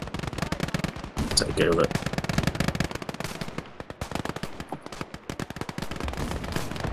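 Machine guns firing in the World War II tank game Call to Arms, in a defensive mission. Dense rattling bursts keep up throughout, with players talking over the gunfire.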